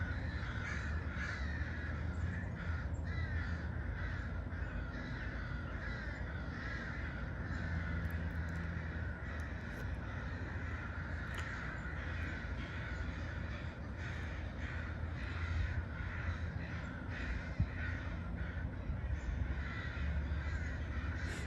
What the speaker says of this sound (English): There is a lot of crows up there making a lot of noise.